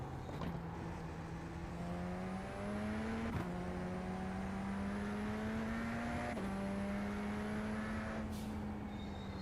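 A race car engine in the iRacing sim racing game drones with a buzzy, go-kart-like tone, its pitch climbing gradually through several gears with brief dips at each shift, steady and prominent with no voices.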